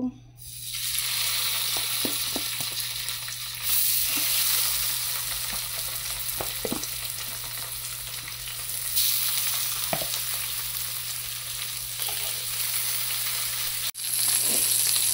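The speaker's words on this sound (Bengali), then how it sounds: "এইদিকে মাছটা ভাজি হইতেছে" Fish sizzles steadily in hot oil, a dense continuous frying hiss with a few soft clinks and knocks, close and fairly loud, with a low steady hum underneath and no talking.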